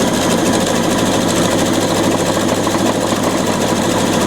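Pfaff 720 sewing machine stitching a buttonhole with a tight zigzag, a loud, fast, continuous whirring buzz held steady for the whole stretch without pause.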